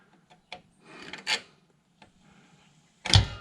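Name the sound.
pliers hitting a bolt during transmission repair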